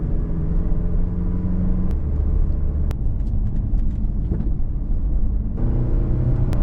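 A car drives back along a road near a rail trail in Lincolnton, North Carolina, heard from inside as a loud steady engine and road rumble with slight shifts in pitch and a few faint clicks, no talking.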